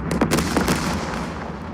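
Artillery gun fire in the wartime strategy game Second Front, heard as a dense burst of cannon blasts over a sustained low rumble with no clean gaps between shots.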